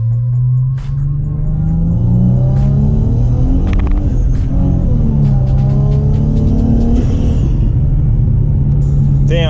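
A Nissan G35 with a rear-mount turbo revs hard on a pull, its loud engine drone climbing and falling through the gears with sharp transient pops, close and continuous.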